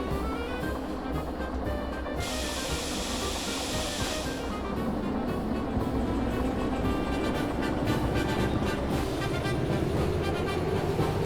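A video game locomotive with a long dual-engine setup rolls along steadily, a continuous rumbling drone with rail clatter and a brief hissing burst early on, no one talking.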